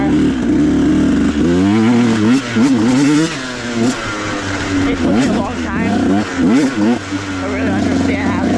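A 150SX motorcycle ridden over rough, bumpy ground at mines and meadows, its close engine rising and falling in repeated revving bursts as the bike bounces along, loud and continuous.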